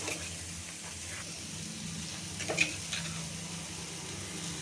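Green chillies tossed into onions that have fried to a deep red for a tarota leaf sabzi, giving a steady, fairly quiet sizzle with a brief louder stir or drop midway and no voices.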